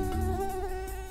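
Mosquitoes, both males and females, fly around inside a lab enclosure, producing a steady, close, high-pitched whine of layered wingbeat tones that holds without a break throughout.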